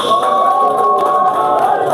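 Fans applauding at a pool grand final match, a steady wash of clapping from the crowd lasting a couple of seconds at even loudness.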